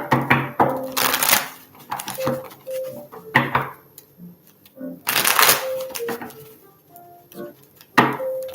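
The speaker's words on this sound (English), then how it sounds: "Right when I was about to shuffle" A deck of cards is shuffled in quick riffling bursts, with two loud flurries and softer handling clicks between, close to the microphone while a voice hums and talks faintly in the background.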